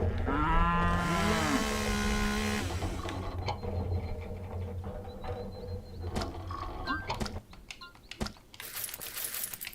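A cartoonish cow moos in the cooking game Epic Chef, a drawn-out wavering call near the start followed by clinking item and coin-like clicks.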